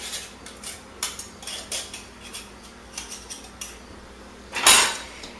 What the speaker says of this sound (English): you just get the rest of the shortening and pastry off of the pastry cutter into